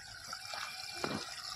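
Water sprinkled over the leaves of a lemon tree, a steady soft splashing and trickling wash that stays even throughout, with one slightly stronger spatter partway through.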